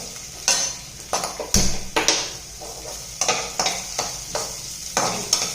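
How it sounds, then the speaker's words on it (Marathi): Finely chopped onion fries in a pan for a spicy potato 65 dish, with steady close sizzling and a repeated rhythm of spoon-stirring scrapes. No voices. "हा जो बारीक चिरून घेतलेला कांदा आहे तो मी याच्यामध्ये घालत आहे।"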